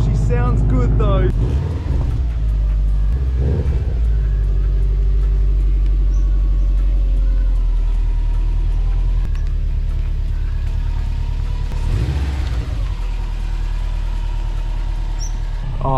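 A Subaru engine runs with a steady, loud low rumble at a Subaru car event, swelling briefly near the start and again later in the clip.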